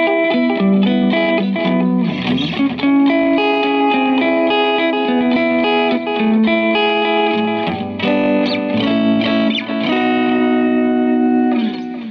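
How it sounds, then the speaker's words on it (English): A Catalinbread Belle Epoch pedal adds echo delay to an electric guitar, its sustained chords and notes trailing into repeating, smeared echoes. The playing is loud and continuous throughout, with no voices. "And then echo delay, of course, we can increase it"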